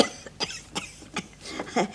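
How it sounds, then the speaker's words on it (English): Several short coughs from a person with a lingering cough, evenly spaced in close succession, close and fairly loud, with no speech over them. "You still got that cough, you know."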